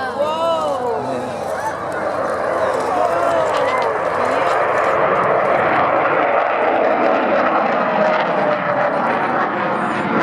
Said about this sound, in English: So, ladies and gentlemen, the mighty Vulcan.